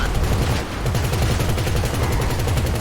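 Sustained rapid gunfire in the video game GTA V during a police shootout, a loud, dense, unbroken rattle of shots throughout.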